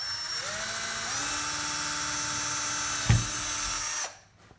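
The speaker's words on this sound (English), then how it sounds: "we are going to use the pop rivet method because it is the strongest" A motorized pop rivet tool runs while fastening a homemade hula hoop. It makes a steady, close whine that steps up in pitch, gives a sharp pop near the end, then stops abruptly.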